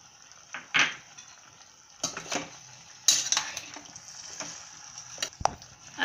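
Several sharp metallic clanks and clicks of a pressure cooker lid being handled and fitted shut, scattered irregularly over a quiet kitchen background.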